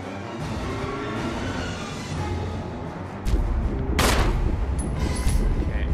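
Rapid bursts of gunfire roar from the video game Resident Evil, loud and dense over rumbling game ambience, swelling into heavier, harder shots in the second half with a bright crack near the end.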